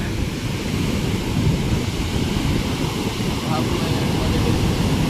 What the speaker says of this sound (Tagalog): Kahapon maliliit na yung alon, pero ngayon palaki pa din ang palaki oh.